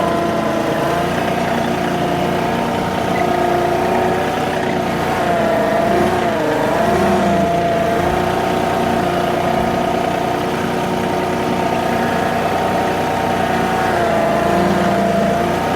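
Tractor engine running steadily at a constant mid-pitched drone while dragging a box blade in a zigzag, loud and close throughout with a slight wobble in the middle.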